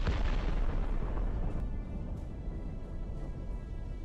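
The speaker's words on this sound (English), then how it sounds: "A hit by the Ukrainian FPV leads to an explosion that tears out and throws away part of the Russian" A Ukrainian FPV drone strikes a Russian armored vehicle, setting off a loud blast that starts as a heavy burst and fades into a steady rumbling roar.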